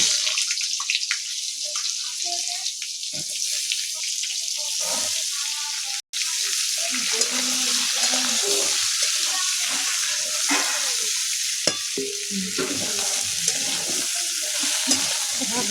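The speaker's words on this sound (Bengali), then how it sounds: "তেল গরম হয়ে গেছে, আমি পটলটাকে এবার ভাজতে এখন দিয়ে দেবো।" Pointed gourd (potol) slices fry in hot oil in a home kitchen, giving a steady, close hiss and sizzle with occasional stirring clatter throughout, no voices.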